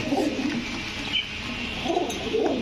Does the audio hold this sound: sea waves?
no